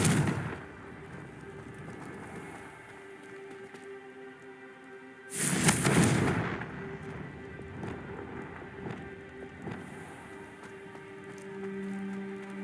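A Confringo explosive spell goes off in Hogwarts Legacy as a single loud, burst-like blast that fades over about a second, set against a quiet ambient game background with no talking.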